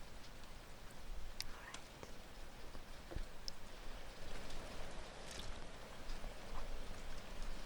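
Continuous thunderstorm rain hisses throughout, with a few sharper drips and taps standing out now and then; no clear voices over the steady downpour.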